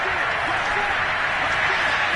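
A Cleveland football stadium crowd in the Dog Pound roars steadily, a broad wash of cheering and clapping that holds throughout, with game commentary over it.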